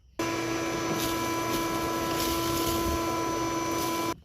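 A vacuum cleaner runs steadily with a strong whine, sucking debris out from behind the gauge cluster of a Fiat 128 project car. It starts abruptly and stops after about four seconds, with faint rattles of debris in the nozzle.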